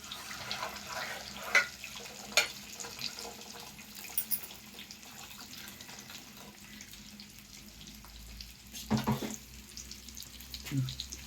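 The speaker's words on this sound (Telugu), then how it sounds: "ఇప్పుడు నీళ్ళైతే వేసేసుకుంటున్నాము." Water hits a hot pan with a few sharp hissing bursts and clatters over a quiet background.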